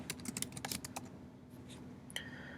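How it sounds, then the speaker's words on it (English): Commands are typed on a computer keyboard in quick, uneven bursts of close, crisp key clicks, then a few sparse taps follow. "these are the commands we have to type"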